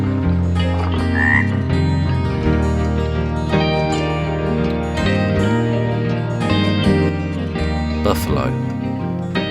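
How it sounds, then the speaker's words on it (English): A frog croaks over a loud, continuous backing of nursery-rhyme music, its calls blended into the dense musical bed for the whole stretch. "frog."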